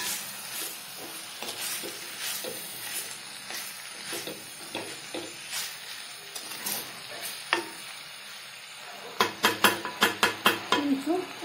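Asafoetida and fenugreek seeds fry in hot oil for a tempering while a spoon stirs them, giving a continuous close sizzle with repeated scraping strokes that grow sharper and louder in a quick burst toward the end.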